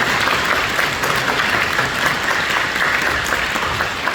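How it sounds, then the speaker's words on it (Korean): A church congregation at an early-morning Korean service claps in encouragement, a dense, steady wash of applause from many hands that fills the room evenly for several seconds with no talking. "격려하는 박수 한번 해주시죠."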